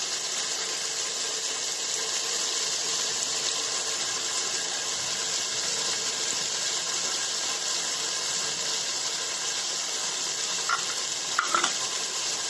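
Green chillies, mint and coriander sizzle steadily in a pan for coconut rice, a constant close hiss throughout with a few brief clinks near the end.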